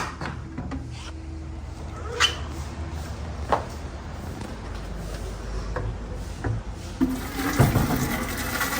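Water splashes and pours steadily into a container outdoors during rain, a continuous wet rush with a few sharper knocks and splashes close by, rising toward the end.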